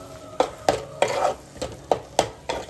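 Prawn curry gravy made with oil and a spice tempering is stirred in a pan, giving about eight sharp scraping strokes in a loose rhythm with a soft sizzle between them, close and clear.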